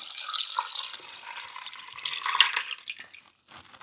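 Cold water poured into a pot over sterilized glass jars of Bulgarian-style cucumbers, a steady splashing pour with drips and a brief louder surge midway, close and alone.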